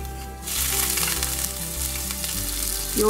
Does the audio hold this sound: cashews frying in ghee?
yes